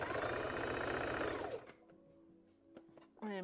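A sewing machine stitches a Valentine's Day dress from McCall's pattern M8383, its rapid mechanical whir running close and loud, then stopping, with brief clicks and handling noises after it and a short burst of stitching restarting at the end.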